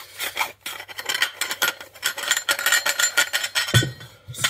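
Cloth rubs briskly back and forth across a Jaguar XJS V12 exhaust extractor by hand, a rapid, close rasping rhythm of strokes with brief pauses and a small clink near the end.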